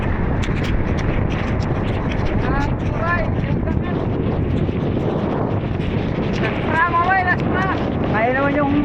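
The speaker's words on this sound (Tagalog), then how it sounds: "Lakas ng hangin." Heavy, roaring wind of a storm at sea buffets the microphone nonstop on a fishing trip, with brief voices briefly audible beneath the gusts.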